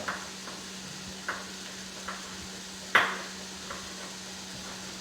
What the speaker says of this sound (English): everything's sizzling over here